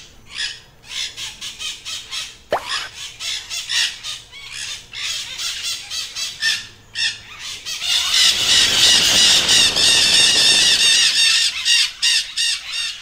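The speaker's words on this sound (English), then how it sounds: "The local parrot population made it their personal mission to wreck my sunflowers." Wild parrots raiding garden sunflowers fill the air with loud, harsh, repeated squawks and shrieks, many birds calling at once and building into a dense screeching chorus, close and continuous with no talking.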